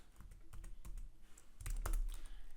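Keys clatter on a computer keyboard in quick, irregular taps, close and fairly quiet, with a denser burst of keystrokes near the end.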